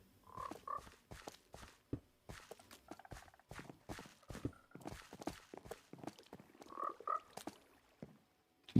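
Frogs croak around a frog sanctuary in a video game, a steady series of short, soft croaks and clicks repeating irregularly at low volume, with a few louder calls standing out.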